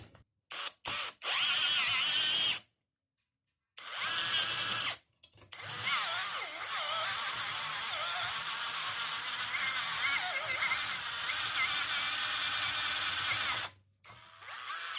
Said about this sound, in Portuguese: Perfuração de metal com esse Metalon 4040 na chapa 18, broca escalonada e esse cabeçote.